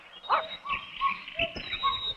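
A cartoon dog whimpers and yips in short, excited bursts, fairly close, over a thin backdrop of music and ambient noise, with no talking.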